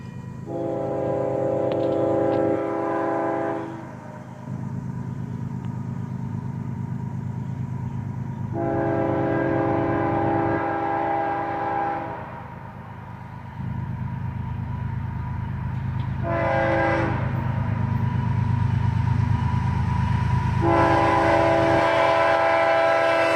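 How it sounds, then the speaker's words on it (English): Freight train rolling past at dusk with its horn blowing in several long, loud blasts over a steady low rumble of wheels and engine, moderately close and without talk. "by the time this train actually got up here"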